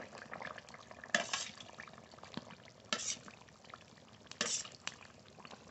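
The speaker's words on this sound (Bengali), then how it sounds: "ভেজে রাখা কাতলা মাছ দিয়ে দেবো।" Pieces of fried catla fish drop into a simmering fish and potato curry, with a few soft splashes and sizzling bursts over a low bubbling background, fairly close and quiet.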